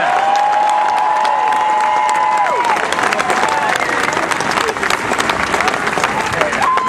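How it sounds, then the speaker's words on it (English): Large outdoor tea party rally crowd in Dayton, Ohio applauding and cheering loudly and steadily throughout, a dense wash of clapping with brief whoops. "let's give a big round of applause to Perry and Rob for putting this together"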